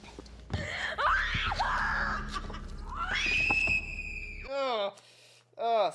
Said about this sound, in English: I never liked hearing her torturous screams.